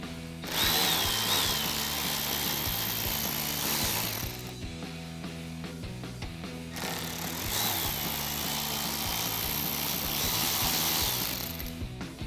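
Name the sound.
power tool removing 7mm screws from Camaro diffuser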